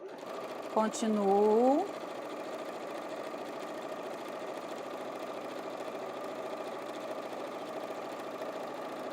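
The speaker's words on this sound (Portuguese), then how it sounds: "Vou começar a costurar essa peça" A sewing machine starts stitching a piece of fabric at close range, beginning with a few forward and reverse stitches, then settles into a steady mechanical whir that runs throughout while someone talks over it.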